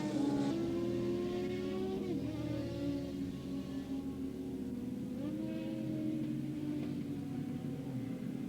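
Racing motorcycles in a 1985 novice open race at Willow Springs International Raceway head up the hill, a steady droning engine roar with rising and falling pitch from several bikes at a distance.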